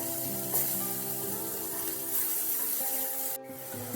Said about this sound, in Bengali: এবার পেঁয়াজগুলোকে আর রসুন কুচিকে হালকা করে একটু ভেজে নিতে হবে।